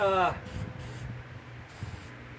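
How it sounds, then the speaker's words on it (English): A short hiss of aerosol spray is aimed into the trunk of a 1965 Chevelle that sat for years, heard in brief bursts after a voice at the start. "Just really spray a whole bunch of it down in there."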